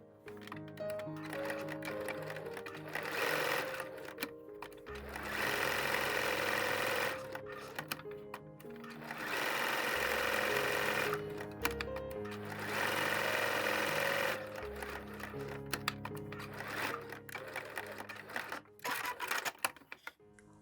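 A sewing machine stitches fabric for a tea coaster with a 1 cm seam. The steady whirring runs come in several long bursts separated by brief pauses, close and clear, with no voices.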